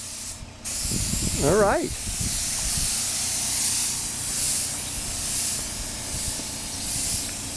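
A cheap Harbor Freight spray gun lays clear coat onto a Benelli or Ducati motorcycle fairing with a steady, close airy hiss lasting several seconds, while someone speaks briefly near the start.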